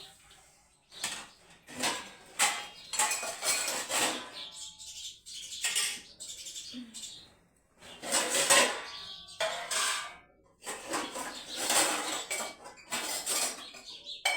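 A spoon clinks and scrapes against a dish as sugar is stirred in, in bursts of rapid metallic tapping separated by short pauses, close and fairly quiet.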